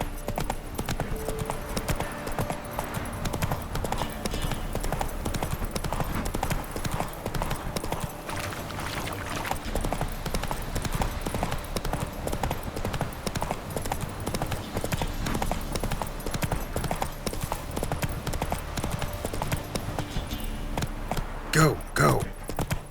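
Roach the horse's hooves clip-clop in a steady walking rhythm in The Witcher 3, continuous and fairly close over ambient game sound, with tack jingling and a brief louder flurry near the end.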